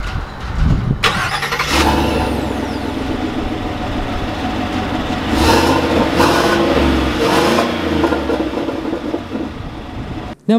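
A 2020 Chevy Silverado 1500 Trail Boss 4x4 truck starts with a brief crank and settles into a steady engine drone heard from inside the cab, with a few thumps and swells as it pulls away.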